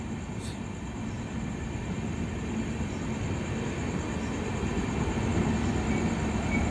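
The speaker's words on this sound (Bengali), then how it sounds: "জলপাইগুড়ি রোড এক্সপ্রেস বেরিয়ে গেল" The Jalpaiguri Road Express passenger train with sleeper coaches and a generator car runs past near the Nasipur rail bridge after leaving Azimganj Junction, a continuous loud low rumble that holds steady throughout with no distinct clacks or voices.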